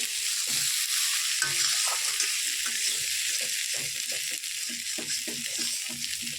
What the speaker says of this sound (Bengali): এবার ঝিঙে যেটা একটু ভাজে ভাজে হয়ে আসো এই তেলটাতেই ভাজা হবে